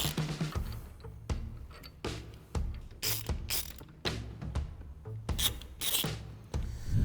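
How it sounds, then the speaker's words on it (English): A 9/16 wrench works a bolt loose from the floorboard bracket of a Harley-Davidson bagger, with close, repeated ratcheting clicks and metallic rasps arriving in short uneven bursts. "You're gonna need a 9/16 wrench to hang on to that while we pull that bolt out of there."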